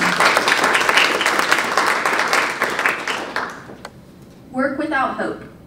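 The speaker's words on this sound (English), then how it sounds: "Let's give a round of applause for Savannah." An audience at a poetry recitation contest claps for a contestant, a dense, close round of applause lasting several seconds before it fades out and a voice begins speaking.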